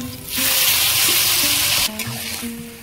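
Raw taro leaves drop into a hot pan holding hilsa fish head and break into a sudden loud, close hiss of sizzling that holds steady for about a second and a half, then quickly drops to a low simmer.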